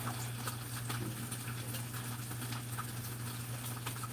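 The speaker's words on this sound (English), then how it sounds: "Yeah, it's raining here." Steady rain falls outside a covered front porch, a soft, even patter of drops with a low constant hum beneath it, continuous and moderately quiet throughout.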